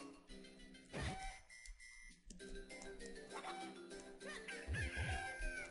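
A white chicken in The Minish Cap video game gives a short burst of clucking and crowing-like calls, layered over ongoing game music and sound effects.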